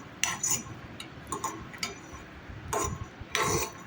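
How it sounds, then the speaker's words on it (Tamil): Peanuts dry roasted in a pan, heard as sparse close clicks and rattling scrapes of a spoon stirring the nuts in irregular bursts over quiet background, with no voices. "இப்போ பீனட்ஸை நல்லாவே வறுத்துக்கலாங்க."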